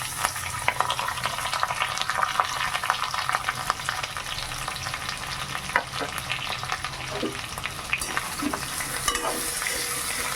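Fresh curry leaves and potato pieces fry in hot oil, a steady close crackling sizzle running the whole time with scattered spatters and the clink of stirring against the pan.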